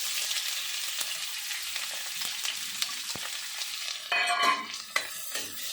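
Garlic slices and onion frying in mustard oil in a wok, a steady broadband sizzle with stirring scrapes and clicks, growing briefly louder near the end as the pieces are turned.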